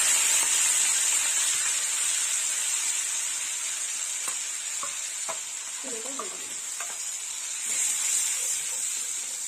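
Onion paste sizzles in hot oil in a pan for egg curry, a steady close hiss throughout with a few brief stirring scrapes in the middle.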